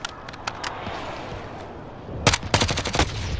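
Video game gunfire cracks out in a few scattered single shots early on, then a louder cluster of rapid shots near the end, fairly close, with no talk.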